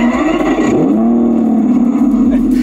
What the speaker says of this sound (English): you want them to think you've got Lamborghini, well do that.